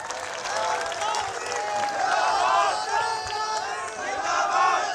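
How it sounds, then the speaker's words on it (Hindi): A large crowd at a Constitution Day political rally in Khatauli roars and cheers, with some applause mixed into a dense, sustained wall of crowd noise. "हम और आप ताली बजा रहे हैं"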